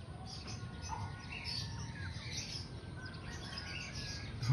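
Pigeons flying around a misty loft give scattered chirping calls, light and moderately distant over a steady outdoor background hiss.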